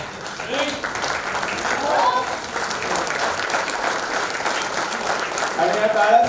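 A seated audience rises for a standing ovation at a live show in Pune, a dense, sustained wash of many hands clapping filling the hall, loud and continuous throughout with faint voices mixed in.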